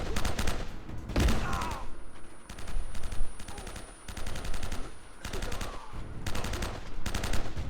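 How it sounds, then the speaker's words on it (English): Enemy gunfire crackles in rapid automatic bursts in the video game Uncharted Drake's Fortune, with a grenade launcher's sharp blast near the start, loud and close, the volleys repeating every second or so throughout. "That guy's just somehow unloading into me with his grenade launcher, and I can't even see him."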